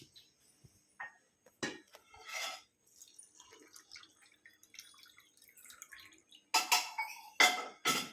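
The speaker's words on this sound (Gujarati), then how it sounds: "હવે મિલ્ક એડ કરી લે." Milk pours into a cup of Horlicks and sugar, heard as a few short, close liquid splashes near the end, with light clinks and drips scattered before them.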